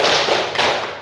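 A single sharp hand clap, loud and close, cut short with little room ring, part of a classroom ice-breaking clapping routine.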